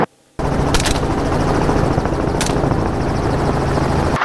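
Gunfire from a helicopter during a hog hunt, with two sharp broadband shots about a second and a half apart cutting through the loud, steady drone of the rotor and engine.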